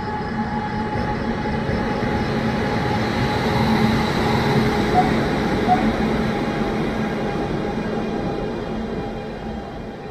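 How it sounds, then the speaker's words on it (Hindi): Another train rolling in on a side line while passengers wait aboard a first AC coach of the Bangalore–Gorakhpur Raptisagar Express, its continuous heavy rumble and wheel noise filling the scene loud and near, with faint talk in the background. "साथ ही साथ एक और ट्रेन आ पहुंची"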